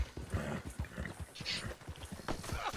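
Rapid, uneven clip-clop of horse hooves in the game Red Dead Redemption 2, close and fairly loud, with brief scuffles and faint voices underneath.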